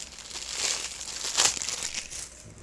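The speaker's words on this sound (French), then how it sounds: "Je vais le déballer, je vais vous montrer l'intérieur du boîtier." Plastic wrap crinkles and crackles as a 4K Ultra HD Blu-ray case of No Time to Die is unwrapped; close, brief rustling bursts with a sharper crackle midway.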